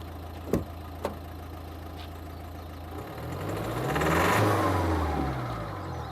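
A Volvo C30 D2 1.6 diesel engine idling with a low steady rumble after a couple of clicks, then revving up to a swelling roar and settling back down, close and moderately loud.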